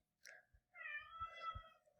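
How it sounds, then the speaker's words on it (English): Cat meowing close by, a short chirp followed by a longer drawn-out meow, alone with faint low thumps in a quiet room. "Got a cat competing for my attention right now."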